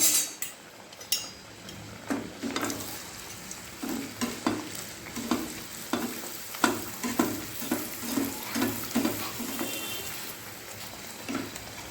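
Taler kakra pitha, palm fritters, frying in hot oil, a soft continuous sizzle broken by rhythmic scraping and clinking of a spatula against the pan, fairly quiet and close.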